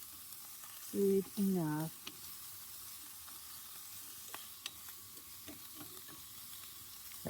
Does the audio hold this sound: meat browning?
yes